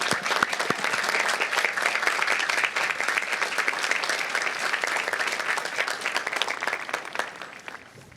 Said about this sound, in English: Please stand and let us give you a warm applause for your service.